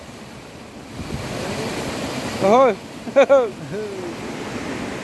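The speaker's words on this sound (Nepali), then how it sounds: "अहिले चाहिँ हामी खोला तरिरहेका छौँ" Flowing water of the Sorana stream in the Bhojpur hills of Nepal, crossed on foot in the dark, rushes as a steady broadband wash while nearby voices call out briefly over it.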